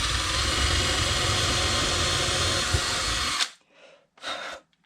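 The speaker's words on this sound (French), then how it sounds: "Donc, je vais percer à 5." An electric drill bores a 5 mm hole for a turntable build, a loud, close, steady whine running for about three seconds, then cutting off, followed by two short, softer spin-ups.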